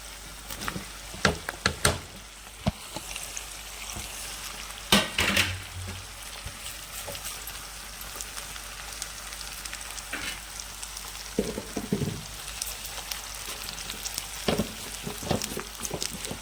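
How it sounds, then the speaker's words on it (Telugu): Pieces of ivy gourd fry in a hot tempering with a continuous soft sizzle, while a spatula stirs and knocks against the pan in sharp, irregular clacks. "చక్కగా తాలింపు పెట్టుకుంటానండి. ఇప్పుడు ముక్కలు వేసుకున్నాను."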